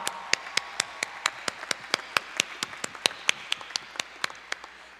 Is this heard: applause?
yes